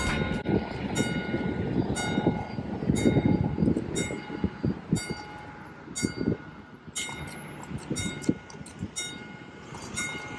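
A train rolls along a nearby track in Graz, Austria, with rhythmic clanking wheel noise and bright metallic squeals and clinks recurring throughout, fairly close and steady with no talk.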